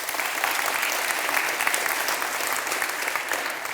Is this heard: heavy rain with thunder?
no